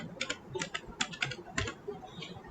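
Someone types on a computer keyboard with quick, uneven clusters of soft key clicks, close and fairly quiet, with no talking over it.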